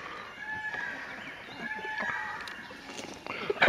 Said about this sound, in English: Nice, healthy looking birds, don't you think?